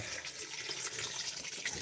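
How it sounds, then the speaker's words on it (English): Water is poured into a bowl of dehydrated dog biscuits, a close, steady splashing gush that runs without a break for under two seconds. "Just add some water. Dog biscuits are dehydrated, guys, so always add water to them."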